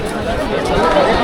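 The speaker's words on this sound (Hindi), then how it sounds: "और यहाँ बहुत भीड़ है" Dense crowd chatter at Charminar in Hyderabad at dusk, a steady close babble of many overlapping voices with no single voice standing out.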